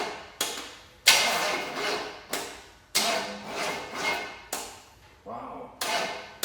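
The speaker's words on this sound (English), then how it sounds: "Let's see if it turns over decent." A Chevy small block engine cranks over on a test run in repeated bursts, each whirring starter spin cutting off abruptly before the next, loud and close.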